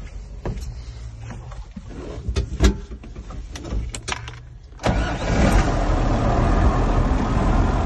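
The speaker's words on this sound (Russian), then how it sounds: "Прекрасно работает трактор." An MTZ 1221.2 tractor with 5717 engine hours and an engine already warmed up: a few sharp clicks and clunks come first, then around the five-second mark the diesel catches and settles into a loud, steady idle close by.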